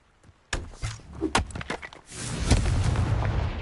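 A Confringo fire-blast spell bursts in Hogwarts Legacy, a sharp close boom followed by several quick thuds and crackles, then a rising rush of rumbling noise that stays loud to the end.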